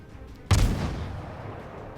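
A single heavy naval gun blast from a video game warship, a sharp near boom that rolls out into a long fading rumble.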